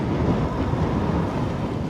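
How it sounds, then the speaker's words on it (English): Steady wind buffets the microphone at the Gila Valley mountain lookout, a constant low rumbling roar with no let-up. "Quite a windy day up here today."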